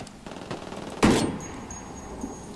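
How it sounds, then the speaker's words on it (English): Gunfire in the Ghost Recon Wildlands video game: a few scattered shots, then one loud close burst that rings out and fades, with fainter pops behind it. "They're shooting the shit out of me"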